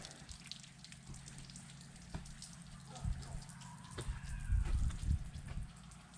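Water rushes and sprays steadily while an outboard boat motor is flushed out after a trip, a continuous hiss with small splashes that grows slightly louder toward the end.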